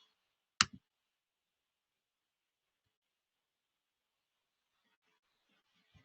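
A single crisp computer mouse click during text editing, a quick double-tap with a short follow-up, then near silence with a faint trailing rustle.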